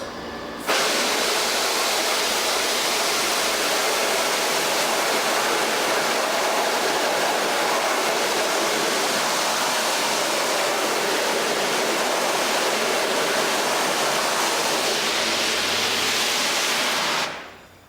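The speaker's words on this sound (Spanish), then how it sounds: "se aplica un chorro de agua a alta presión para eliminar toda la emulsión que no recibió luz" A high-pressure water jet washes emulsion off a screen-printing mesh, giving a loud, steady hiss of spraying water that holds unbroken for about seventeen seconds before stopping abruptly.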